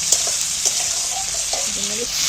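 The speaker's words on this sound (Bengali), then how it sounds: "এইটাকে একটু ভালো করে ভেজে নেবো তেলের মধ্যে" Onions and tomatoes frying in oil in a pan for egg biryani, a steady close sizzle throughout with a few faint stirring knocks and a voice talking softly over it.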